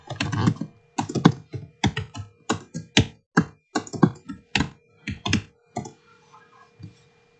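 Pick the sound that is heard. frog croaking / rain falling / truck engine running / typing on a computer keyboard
typing on a computer keyboard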